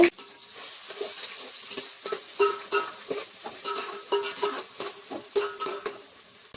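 Chopped onions fry and get stirred in a pot of spiced oil for chicken biryani, a steady soft sizzle broken by repeated scraping strokes of the spoon, close and moderately loud with no talk.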